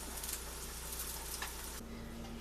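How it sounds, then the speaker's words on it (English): A steady, close sizzle of tortillas frying in hot oil in a pan, with a constant crackling hiss and no voices. "as you're frying the tortillas, you'll need to add more oil to the pan"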